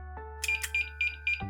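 Electronic robot-style beeps, a short series of bright tones repeating in a quick rhythm over a steady low hum, ending in a brief burst of clatter.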